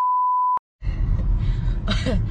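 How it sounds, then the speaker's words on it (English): A single steady electronic beep sounds alone and clearly, holding for about half a second before cutting off; a noisy room with a faint voice follows. "I hate this beeping right now."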